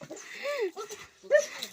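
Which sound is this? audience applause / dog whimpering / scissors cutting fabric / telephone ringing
dog whimpering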